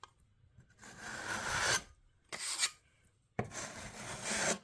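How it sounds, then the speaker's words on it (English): A metal scraper rasps across drywall filler over a patched hole in three close, loud bursts of scraping, separated by brief pauses. "I'm going to scrape off half of it here"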